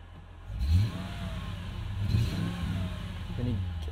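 A Mercedes-Benz ML55 AMG engine revs up three times from idle, each rise slightly uneven and stumbling with a misfire, heard close and moderately loud in a quiet setting.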